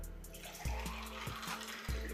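Crystal punch runs through a kitchen strainer, a brief, quiet watery pour with a few soft splashing pulses.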